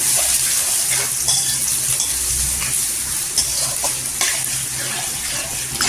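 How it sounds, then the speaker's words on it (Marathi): Sliced onions and curry leaves fry loudly in a couple of spoons of hot oil for egg masala curry, a dense continuous crackle. Occasional scrapes and clatters from stirring sound close by. "इथे कांदा आहे ना आपण सॉफ्ट करून घ्यायचा"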